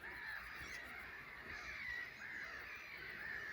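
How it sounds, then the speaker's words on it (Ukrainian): Birds calling over a small, partly overgrown lake in a Ukrainian town, faint harsh caws and squawks repeating through a quiet outdoor background. "Пташок багато літає над цим озером."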